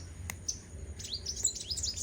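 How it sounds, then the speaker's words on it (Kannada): A small sparrow chirps close by in a quick series of bright, high tweets, starting with a few isolated calls and then a busier run of chirps over a low, steady background hum. "ಚಿಕ್ಕ ಗುಬ್ಬಿ ಅದು"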